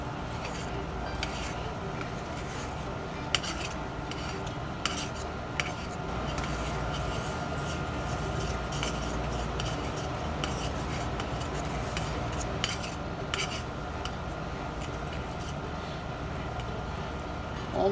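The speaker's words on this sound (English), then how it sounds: "you just got to constantly stir it." Homemade fudge made with marshmallow cream is stirred steadily in a pot, a continuous close scraping and rubbing with a few sharper utensil clinks against the metal.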